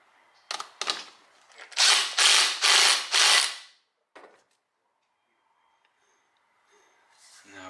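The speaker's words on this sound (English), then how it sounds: "Now we can tighten our impeller bolt" A ratchet tightens a supercharger impeller bolt on a 1995 Ford in a series of rapid clicking pulls, four strong strokes in a row, close and crisp. A faint tap and quiet handling noise follow.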